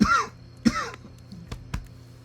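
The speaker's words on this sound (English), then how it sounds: "Something actually just went down the wrong pipe, so I'm trying to get it up." A person coughs and clears their throat, two strong harsh bursts followed by a few smaller throat-clearing hacks, close and alone without speech.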